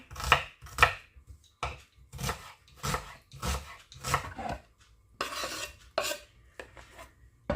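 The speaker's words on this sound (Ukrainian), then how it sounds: "нарізаємо цибулю і морку" A knife chops onion and carrot on a board, about ten firm strokes at an uneven pace with short gaps between them. The strokes come from close by, with no voices.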